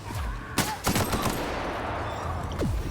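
Gunfire in a video game, a quick burst of several sharp shots in the first second over a steady background hum, followed by a lone shot near the end.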